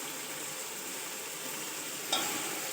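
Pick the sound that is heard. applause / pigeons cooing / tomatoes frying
tomatoes frying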